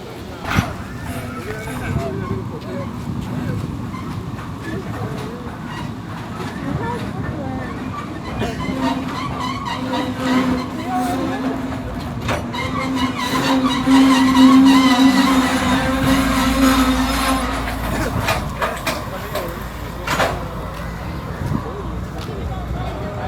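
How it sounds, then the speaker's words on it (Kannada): A rust-worn diesel train running along the seaside line in Colombo toward Mount Lavinia, its heavy rumble swelling as it nears mid-clip and then holding steady, with a person talking over it throughout. "ಈಗ ಮೌಂಟ್ ಲವೀನಾ ಕಡೆಗೆ ಹೋಗೋ ಟ್ರೈನು ಬರ್ತಾಯಿದೆ"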